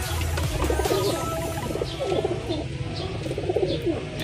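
Several pigeons coo in low, rolling murmurs that overlap continuously, close by, with occasional light flutters and chirps.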